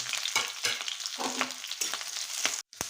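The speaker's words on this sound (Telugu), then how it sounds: "ఉల్లిపాయ మిరపకాయ క్యాప్సికమ్ వేసేసేసి కాస్త వేపేసేయండి" Onion, green chilli and capsicum sizzle steadily in hot oil for a vegetable manchurian, with scattered clicks and scrapes from stirring and a brief silent gap near the end.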